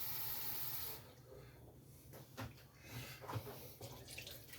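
Water poured from a cup into a large cooking pan while making tuna and rice, a steady splashing pour that fades into softer trickles and small splashes, close and fairly quiet.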